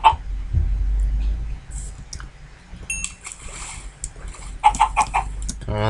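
Chickens clucking in a Minecraft-style block-building game, short scattered clucks and clicks over a low rumbling game backdrop, with brief bursts of activity near the end.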